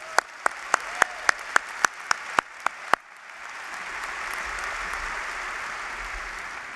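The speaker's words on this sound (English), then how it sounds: "Let's give them a round of applause." Applause rises from the audience at a Georgia Tech undergraduate commencement ceremony. About ten sharp, evenly spaced claps ring out first, and then broad, continuous clapping fills the hall at moderate volume.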